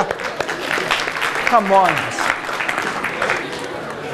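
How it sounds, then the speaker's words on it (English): A lecture audience breaks into applause, a rustling wash of clapping that runs throughout while someone speaks briefly over it. "Give yourself a round of applause."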